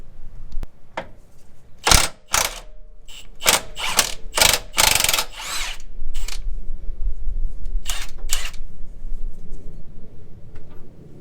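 A ratchet wrench loosens the nut on the front differential mount bushing of a Land Cruiser 100 series, giving bursts of sharp metallic clicking up close, paused between strokes and then running in a steady stretch.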